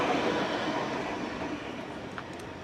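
Tram passing on a street in Nice, France, a close rumbling rolling noise with faint rail clatter that fades slightly as it goes by, with no talk.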